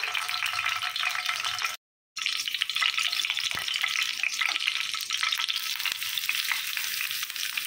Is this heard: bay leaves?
yes